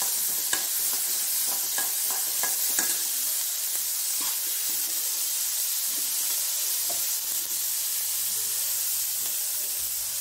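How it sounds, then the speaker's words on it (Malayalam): Small onions (shallots) sautéing in a pan for palak cheera parippu curry, a steady close sizzle and hiss throughout with intermittent scraping and stirring clicks, no talk. "ചെറിയ ഉള്ളിയുണ്ട് അതെടുക്കും. അതിന് നന്നായിട്ടൊന്ന് വഴറ്റി എടുക്കും."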